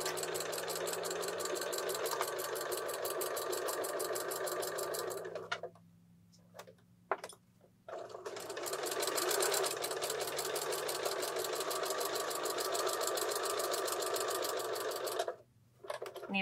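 A domestic sewing machine stitches steadily around the edge of a fabric baby taggie blanket with ribbon tags, a continuous buzzing run that stops briefly twice mid-way, then resumes near and loud.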